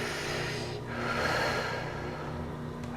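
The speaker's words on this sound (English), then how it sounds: "Take a deep breath." One long, deep breath is taken and slowly let out. It sounds close and steady, with a soft airy hiss and no speech.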